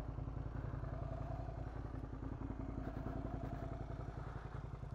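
A Suzuki motorcycle of about 40-odd horsepower idles or rolls slowly while pulling over, its engine a steady, close, low rhythmic thrum with a faint rattle throughout and no voices.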